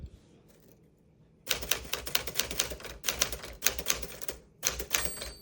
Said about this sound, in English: So when you're typing,